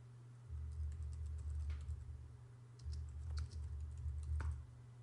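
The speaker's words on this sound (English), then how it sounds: "If you type in the words subscribe to comments in the area over here," Computer keyboard typing in two steady bursts of rapid, light key clicks, separated by a short pause, close and clear over a low background hum, with no talk.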